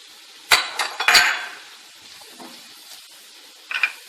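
Chicken pieces drop into a frying pan of oil and onions fried until softened, giving a few sharp clinks and clatters close by, then a faint sizzle and one last clink at the end.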